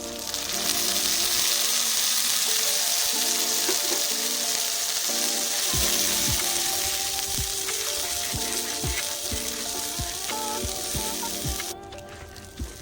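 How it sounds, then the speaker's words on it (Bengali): Spices going into hot oil in a wok with fried onion and garlic for an egg kosha curry, a steady hiss and sizzle with scattered crackles and a few utensil knocks throughout. "কড়াইয়ে মশলা দেওয়ার পরে কিন্তু খুব সুন্দর মতো কষিয়ে নিতে হবে"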